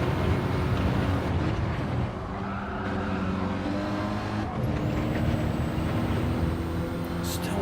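Renault Clio Cup race car heard onboard at the Red Bull Ring short circuit as it approaches a corner, its engine a loud, close, steady drone with shifting pitch throughout.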